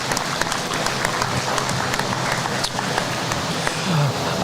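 A crowd at a county fair sheep show applauds the exhibitors, a dense, steady wash of clapping that holds at an even level for the whole stretch.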